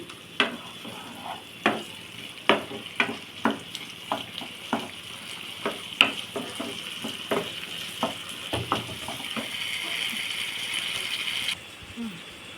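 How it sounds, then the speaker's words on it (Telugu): Ginger garlic paste frying in a pan for a prawn curry, a low steady sizzle broken by a regular series of sharp spatula taps and scrapes against the pan. "ఒక స్పూను అల్లం వెల్లుల్లి పేస్ట్ ఇది వేగనియ్యాలి"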